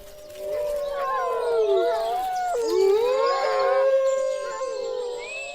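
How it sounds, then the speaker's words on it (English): Wolves in the Durmitor Mountains howling together in a wavering, overlapping chorus, long rising and falling calls sustained throughout. "Wolves still roam throughout the Dumitor Mountains, and their howl is a primal call of the wild"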